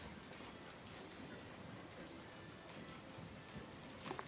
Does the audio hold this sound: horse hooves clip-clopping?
yes